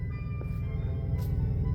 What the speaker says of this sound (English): It sounds like a really shitty motorcycle.